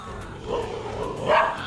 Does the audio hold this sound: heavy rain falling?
no